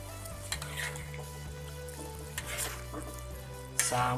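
A utensil stirs Indonesian tilapia semur stew in a pot, with bubbling and a sizzling hiss running throughout and occasional scraping clinks against the pot, close and steady, with no talk.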